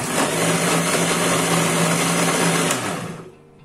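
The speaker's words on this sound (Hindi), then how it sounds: "मिक्सी में मिक्स करें" An electric mixer grinder whirs steadily for about three seconds, blending mango with thick cooled milk into a shake, then quickly winds down and stops.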